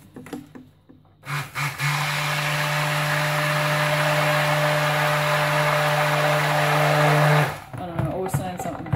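Kitchen blender running steadily for about six seconds as it mixes a lemon and bergamot soap batter, a loud continuous motor whine with a strong low hum, starting and stopping abruptly between brief moments of quiet handling.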